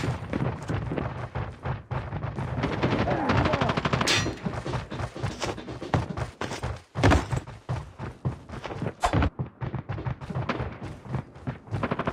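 Gunfire in the video game Call of Duty Mobile crackles in rapid bursts and single shots, loud and close, with sharp bangs spread unevenly across the clip and no speech.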